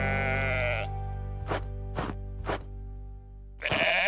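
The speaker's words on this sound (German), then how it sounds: "Und das Pferd hört sich so unecht an." Unnatural-sounding horse neighs from the video game House Builder, three short separate whinnies spaced evenly between longer tonal game sounds, clear and close.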